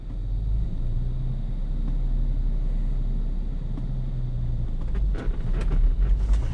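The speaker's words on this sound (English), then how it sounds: "right now we're just gonna drive" A 2009 Jeep Wrangler X cruising on the road gives a steady low engine rumble and road drone from inside the cabin, with faint rattles and a few knocks near the end and no talk.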